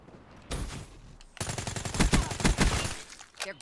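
Automatic gunfire in Black Ops 3: a short opening burst, then a longer rapid string of loud, close shots with a steady rhythm, ending in one last isolated report.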